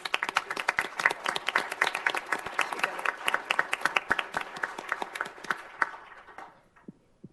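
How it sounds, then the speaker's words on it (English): A city council meeting audience in Goodyear applauds steadily for about six seconds with dense, crisp clapping. The applause then thins and fades to near silence. "Let's give her a round of applause."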